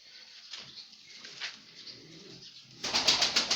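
Pigeons in a loft, busy building a nest, make soft low coos and faint rustling for most of the stretch, then a louder burst of bird activity near the end.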